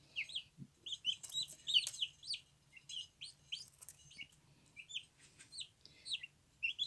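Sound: chicks clucking

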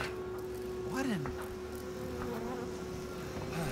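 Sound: insects buzzing in Outlast 2 video game

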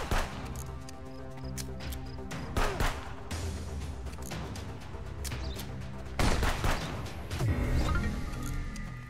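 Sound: gunfire from the video game Contraband Police

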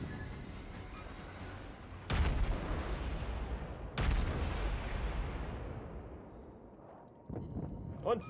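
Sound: warship cannon fire in video game World of Warships

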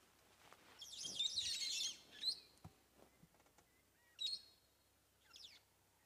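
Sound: brown-headed parrots calling

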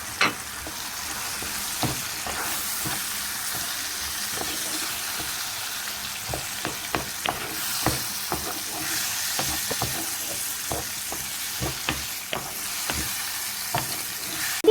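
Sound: tomatoes stirred into frying ingredients in a pan

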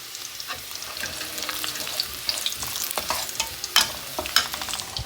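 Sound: greens tempered with chopped garlic frying in pan

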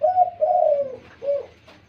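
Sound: dove cooing

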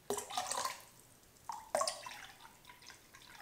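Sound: pouring aloe vera juice into lotion mixture

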